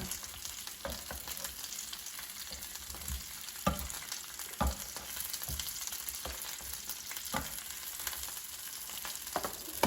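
Chicken drumsticks browning in a pan, a quiet but steady frying sizzle with a few scattered taps and scrapes as they are turned, heard alone without talk.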